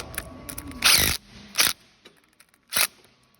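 A few sharp mechanical ratcheting bursts as a Shurco Shur-Trak cable clamp is tightened, three short loud clicks spaced apart against near silence.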